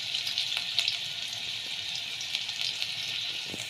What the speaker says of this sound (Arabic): اهو يا جماعه حطيت حبه زيت. هنزل بقى بالبصل.